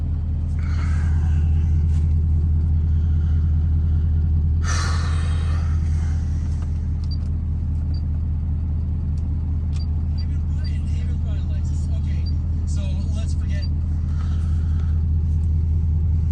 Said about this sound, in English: I could listen to this truck all day.